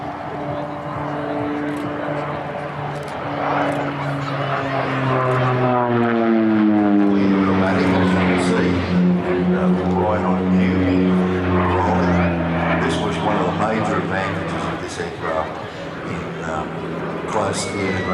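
A propeller airplane at an air festival comes in on a steep landing approach with its gear down, the engine drone rising and shifting in pitch under continuous commentary from someone talking over it.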